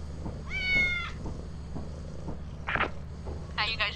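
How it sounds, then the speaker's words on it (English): A cat in the video game Lethal Company gives a rising meow early on, followed by two more short bright meows, with faint purring underneath and game background noise throughout. "I'm gonna kill this cat."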